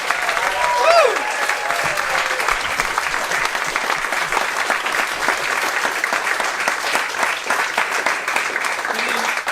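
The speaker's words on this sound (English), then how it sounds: "Round of applause for Jamil." An audience breaks into sustained applause with clapping and a few cheers, loud and continuous throughout, with a brief whoop near the start, at an end-of-year special event.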